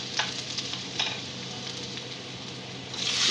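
Garlic sizzles in a pan while making salmon fried rice, a bright, steady crackle close up, with a few stirring scrapes near the start and the frying swelling louder at the end.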